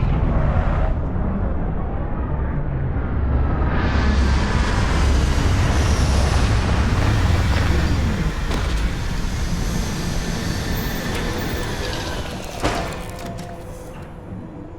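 Spacecraft landing in the game Starfield: a loud, continuous broadband engine roar that holds steady for most of the time, then eases and thins toward the end with a brief thump near the close.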